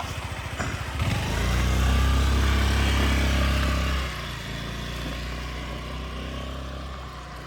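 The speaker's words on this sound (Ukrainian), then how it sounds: "Дуже гарно працює двигунчик. Такий тихенька робота двигуна, м'якенька." A Honda Lead 110cc fuel-injected scooter engine runs close by, swelling to a louder, revving drone for a few seconds before settling back to a steady, soft idle, with no voices heard.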